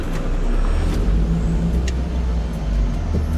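A car engine rumbles steadily at low pitch as the vehicle drives along a muddy mountain track in Victoria's High Country, with occasional faint knocks and splashes.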